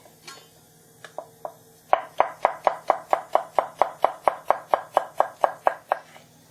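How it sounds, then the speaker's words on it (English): A knife slices spring onions on a cutting board: a few tentative taps, then a fast, even run of about eighteen crisp chops close up with no talking. "Just take the first layer off the spring onion because it's sometimes a little bit tough, and then we just slice these up."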